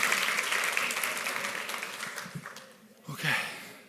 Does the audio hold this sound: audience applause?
yes